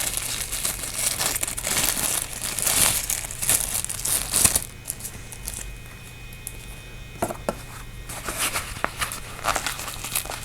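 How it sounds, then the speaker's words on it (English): A magnetic charging cable for a Klarus XT12GT flashlight is pulled from a crinkly plastic bag, giving dense close-up crinkling and rustling for about four seconds, then sparser, quieter crackles and handling taps. "We'll go ahead and take that out of the bag here."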